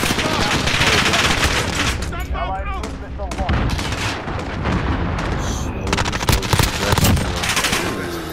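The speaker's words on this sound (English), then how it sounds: "Nice long shot, Keef." Dense, loud video-game gunfire, with rapid overlapping shots and automatic bursts that fill the whole stretch and voices faintly mixed under the shooting.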